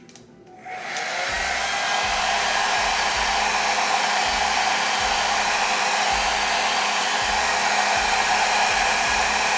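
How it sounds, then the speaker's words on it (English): A blow dryer on its cool setting switches on and runs with a steady, loud whoosh of air, its motor humming continuously close by while a lace wig is pressed down. "I'm going with my very crusty and very melted blow dryer"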